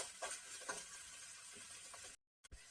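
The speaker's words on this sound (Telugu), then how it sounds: "గ్రీన్ చిల్లి చిన్న చిన్నగా కట్ చేసుకోవాలి వేసుకుంటున్నాను వేసుకొని కొంచెం కలుపుకుంటున్నాను" A spatula stirs onions and chopped green chillies in a pan with a soft, steady sizzle, occasional scraping strokes, and a brief clatter near the end, quiet and close.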